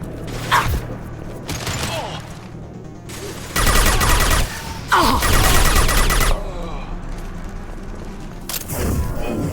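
Heavy gunfire in the Mass Effect 2 video game, with loud bursts of automatic fire and thumping impacts in two long stretches. Quieter gaps between them carry game noise and a voice.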